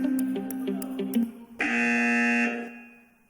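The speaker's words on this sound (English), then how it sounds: "Somebody go for it on the buzzer." At a fashion retail quiz event, a quiz game buzzer sounds: a rapid series of short beeping pulses is followed by one long, loud, harsh buzz lasting about a second that then fades out.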